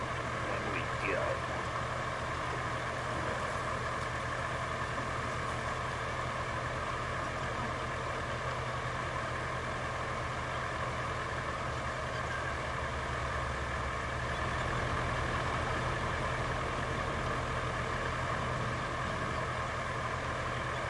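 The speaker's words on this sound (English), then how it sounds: "This tractor is really tearing this road up through here, that's for sure." A tractor engine drones steadily while driving along a rough road in the video game Roadcraft, a constant low mechanical hum lasting the whole stretch at moderate level.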